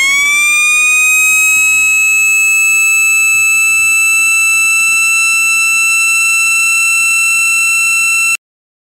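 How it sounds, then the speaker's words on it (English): A small mini siren winds up shrill and high-pitched and holds a piercing steady tone for about eight seconds, then cuts off abruptly. "A mini siren is the smallest and the high-pitched one."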